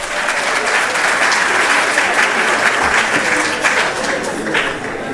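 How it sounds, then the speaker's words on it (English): A hall audience at an annual research meeting gives a sustained, loud round of applause, a dense, even clatter of many hands that holds steady throughout. "Let's give him a round of applause."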